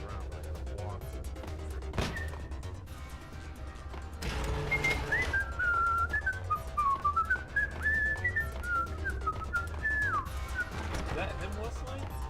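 A character whistles a wandering, melodic tune in the PS2 game Max Payne, clear and fairly prominent over steady low game ambience, with someone talking intermittently.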